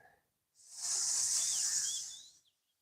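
A single long hissing exhale, in which a person's voice imitates a snake while holding a yoga pose, rises quickly, holds steady for about two seconds, and fades out against near silence.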